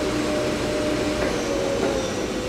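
The spindle of a Hyundai-WIA L400C CNC turning center spins at 1200 RPM, producing a steady, loud mechanical hum with a constant whine, close and uninterrupted.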